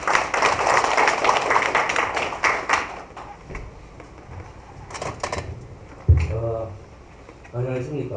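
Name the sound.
audience applause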